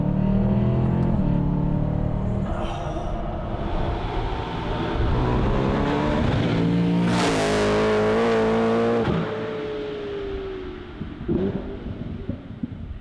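A supercharged BMW E92 M3 with a G-Power compressor kit roars as it is driven, the engine climbing through the revs with a loud, aggressive snarl, a sharp peak mid-run, then easing off with blips on lift-off.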